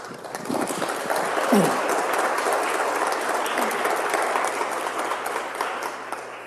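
A large audience at a peace-themed public event gives sustained applause for three congressional parliamentarians, dense clapping holding steady for several seconds with a few voices mixed in.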